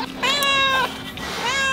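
A cat meows loudly and close up, one long meow and then a second that starts to rise, with no other sound around it.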